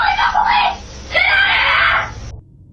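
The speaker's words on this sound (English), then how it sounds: "We can hear her screaming from inside the house." A woman screams inside a house during a night break-in attempt at her front door, two long, loud, shrill wails close together that break off abruptly.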